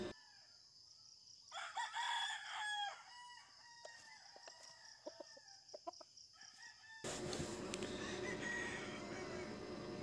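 A rooster, a 2.0-weight fighting cock, crows loudly nearby, a long drawn-out call, followed by a burst of louder rustling and background noise.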